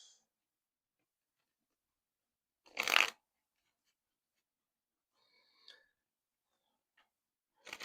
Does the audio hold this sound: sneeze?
no